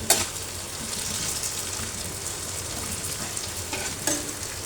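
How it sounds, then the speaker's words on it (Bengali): Potatoes fry in a pan for a spiced egg-and-potato snack, giving a steady close sizzle with occasional stirring scrapes and no talking. "তো এখন এটাকে আমি ভেজে নেব"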